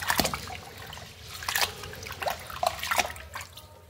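Grain is washed by hand in water, giving irregular splashes and drips that come up close in short bursts between quieter moments.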